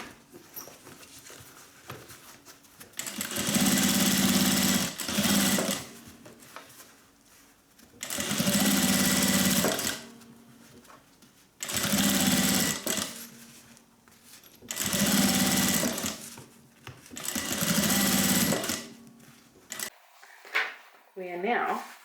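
Sewing machine stitching a decorative stitch with back stitching on a unisex sling bag, running in five loud bursts of rapid whirring separated by quiet pauses with soft handling noises between them.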